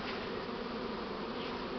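Buckfast honeybees swarming, a dense steady buzz of many insects holding even and continuous throughout, fairly quiet and with no voices.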